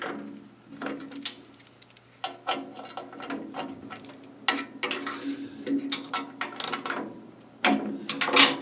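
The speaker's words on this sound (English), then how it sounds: "we're going to just loosen these 6 bolts and see what happens here with the table." Six bolts loosened under a band saw table, a run of close metallic ratchet clicks and ticks in short uneven bursts with small knocks between, moderately loud and with no talk.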